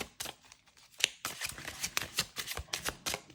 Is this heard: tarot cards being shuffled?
yes